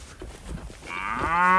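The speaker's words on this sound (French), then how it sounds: "Ta bouteille d'eau dans le sac, ça fait un bruit de vache." Water bottle rubbing in a bag lets out a drawn-out groaning call like a cow's moo, rising in loudness to the end after a short stretch of rustling.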